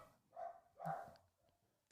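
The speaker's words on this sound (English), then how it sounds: "Oh, those dogs." Dogs barking at a distance, two distinct barks about half a second apart, faint and carried from outside rather than close by.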